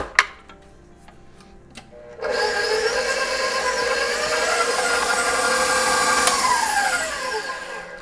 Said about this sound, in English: We'll pop this on our mixer and cream everything together for 3 to 4 minutes